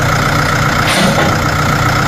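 A turbocharged XCMG backhoe loader engine idles close by, its wastegate-valved turbo adding a steady whine over a loud, constant low rumble.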